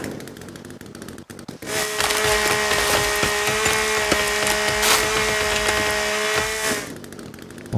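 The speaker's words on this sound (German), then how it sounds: "ich helfe dir beim Sägen" Wood sawing in the survival video game The Forest, a continuous, loud rasping and splintering run of rapid strokes lasting several seconds, with a sharp crack before it starts.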